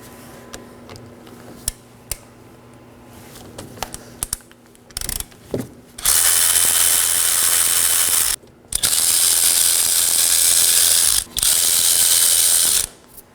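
A ratchet wrench loosening the two 14mm brake caliper slider pin bolts on a 2018-2024 Chevrolet Equinox 1.5L. A few scattered clicks lead into loud, rapid, sustained ratcheting in long bursts broken by brief pauses, right up close.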